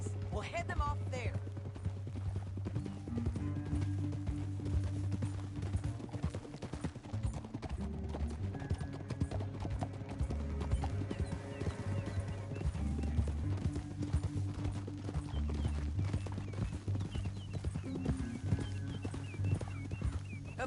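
Steady clip-clop of horse hooves at a brisk pace in the video game Red Dead Redemption 2, with game music and background noise running throughout.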